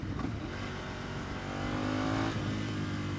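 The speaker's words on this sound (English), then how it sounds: "When you let off the throttle, there's this nice little blah, blah, blah, blah on the overrun." Ducati Monster 659 motorcycle engine up close, a rough rumbling note that climbs in pitch through a rev and then falls away abruptly as the throttle closes, with no talk over it.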